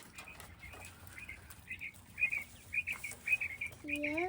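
Newly bought quail in a hay-lined pen give a series of soft, short chirps that grow more frequent toward the end, faint and close, with a brief spoken word in the background.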